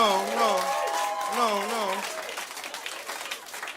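An audience at a stand-up comedy show claps in a steady wash of applause that sits under a voice at first, then carries on alone.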